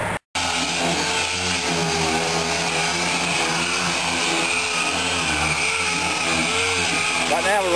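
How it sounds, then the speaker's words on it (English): Steady, continuous abrasive roar of a power sander working 80 grit sandpaper over the body of a 1928 coupe hot rod, loud and close, with a voice talking faintly underneath. "Right now we're running about an 80 grit sandpaper."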